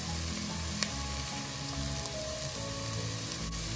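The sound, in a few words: green chillies sizzling in frying pan for tomato curry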